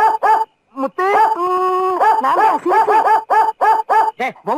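Muthu the dog lets out a string of close, loud barks and drawn-out howling yelps, rising and falling in quick bursts.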